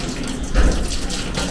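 Running water pours steadily over fresh Korean ginseng roots as they are washed, a continuous splashing, tap-like flow that swells briefly in the middle, close and alone without talk.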